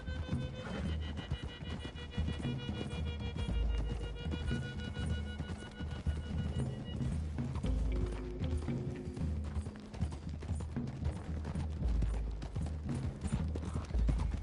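Horses galloping in Red Dead Redemption 2: a steady, fast clip-clop of hooves running throughout, mixed with game music and background sound, fairly quiet, with no speech over it.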